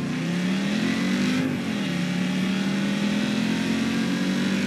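A car engine in the video game Just Cause 3 drones steadily at high revs while driving, with a brief dip in pitch partway through, loud and close, with no talk.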